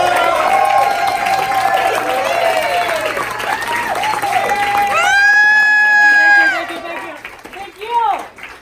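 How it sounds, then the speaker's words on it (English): Audience applause and cheering for Mrs. Emily Gabriel, a standing crowd clapping under loud whoops, shouts and sung-out voices that rise into a long held cheer before fading. "please rise and give a round of applause to the one and only Mrs. Emily Gabriel"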